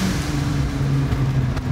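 Close, loud engine roar from an all-wheel-drive VW Golf fitted with two twin-turbocharged VR6 engines, pulling hard as it accelerates in a short, continuous burst.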